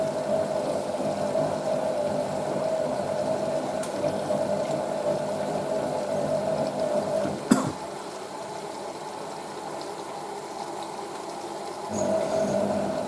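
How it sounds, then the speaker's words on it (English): An April 1986 Hotpoint 9530 washing machine filling with suds and water, giving a steady pumping, bubbling wash of liquid with a faint tonal hum, a brief clunk partway through, and no talking. "Now we got the suds coming in."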